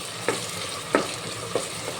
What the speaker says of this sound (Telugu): ఇలా మధ్య మధ్యలో కలుపుతూ ఉండాలి.